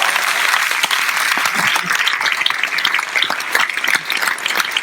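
A theatre audience at a live comedy show applauds Laurent, a dense, loud burst of clapping that holds steady for the whole stretch with no one speaking.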